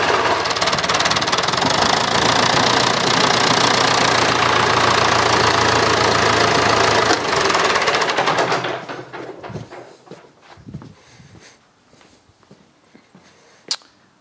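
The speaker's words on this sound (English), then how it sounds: "Now let's see if we can crank up the engine." A David Brown 990 tractor's loud engine clatters and knocks steadily for several seconds after cranking, then cuts off, leaving quiet scattered clicks and a sharp tap near the end.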